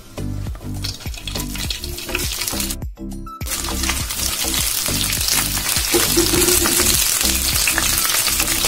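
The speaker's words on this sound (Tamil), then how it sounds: "ஃப்ரையிங் பேன்ல வந்து ஃபர்ஸ்ட் ஆயில் ஊற்றிக்கலாம்" Oil in a frying pan for a crispy bitter gourd fry sizzles loudly and steadily, with repeated clinks and scrapes of stirring throughout and a brief drop-out near the middle.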